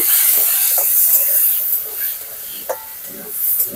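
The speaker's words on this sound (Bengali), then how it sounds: "আলুগুলো একটু ভেজে নেব।" Cut potatoes, seasoned with salt and turmeric, hiss steadily in hot oil in a home kitchen, a continuous near sizzle with a few brief clicks and crackles rising over it.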